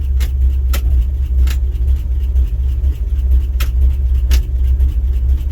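A 1967 International 1200 truck engine running in Alaskan winter, a loud steady low rumble from close by with a few sharp clicks over it.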